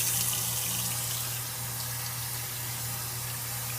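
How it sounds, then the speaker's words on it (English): Hot water runs steadily from a tap for rinsing a cast iron pan, a close, continuous rushing stream with a faint hum beneath, no voices. "I'm going to get the hot water going"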